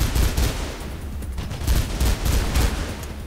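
Bursts of rapid gunfire in Mirror's Edge hammer out in several close, loud volleys separated by brief gaps, with no one talking over them.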